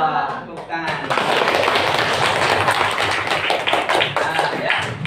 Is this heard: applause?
yes